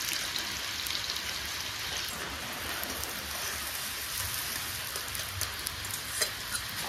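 Chopped onions fry in mustard oil with a constant, even sizzle and fine crackle, steady and fairly close, with no talking.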